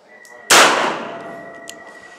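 One sharp, loud crack from an AMT Micro Automag II .22 Magnum pistol, with heavy muzzle blast, followed by a ringing metallic decay that fades over about a second and a half outdoors.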